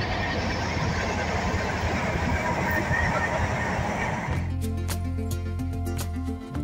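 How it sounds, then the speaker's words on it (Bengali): Train rolling into Kharagpur station on the Samudrakanya Express, a steady loud rumble that gives way to rhythmic clanking and low droning tones as the carriage slows, with no talk. "ট্রেন ঢুকছে এখন খড়গপুর স্টেশনে"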